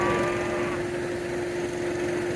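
Cattle moo while being fed hay on a snowy farm day, one long, steady, droning low call held for over two seconds over a wash of outdoor engine and wind noise.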